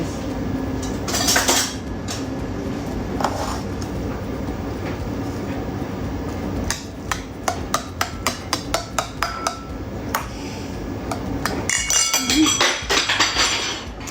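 A spoon clatters against dishes in a quick series of bright metallic clinks, with some low background rumble and faint voices; the spoon drops with some rice on it.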